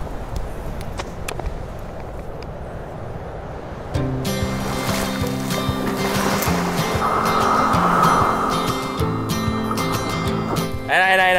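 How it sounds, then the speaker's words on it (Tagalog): Wind-driven sea waves wash steadily onto the shore at a breezy beach campsite in Bicol, a continuous broad rush that swells louder midway, with a faint tonal hum and other low sounds mixed in. "yung alon lang talaga yung naririnig mo"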